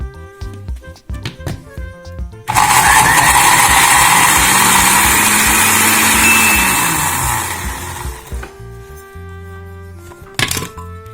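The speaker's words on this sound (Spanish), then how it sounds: "para ayudar a nuestra licuadora a que muela bien" A blender grinding bread and cilantro whirs loudly for about six seconds, grinding steadily before winding down, with quieter clinking and handling noises before and after.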